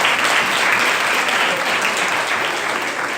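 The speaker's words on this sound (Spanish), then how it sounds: "Un aplauso que la verdad" Sustained applause from a classroom or competition audience at a national math olympiad discussion, dense steady clapping filling the whole stretch at even loudness with no talk over it.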